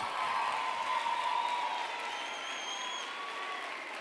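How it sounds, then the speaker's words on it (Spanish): A crowd at a carnival troupe presentation applauds loudly and continuously in a dense wash of clapping, with a few thin whistles running over it. "¡Aplauso fuerte!"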